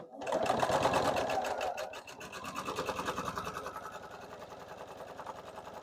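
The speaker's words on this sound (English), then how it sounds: "And you're going to sew on the line that you made." A sewing machine stitches a leaf quilt block in two rapid bursts of fast, rhythmic needle chatter with a brief pause between, close and fairly loud, with no talk.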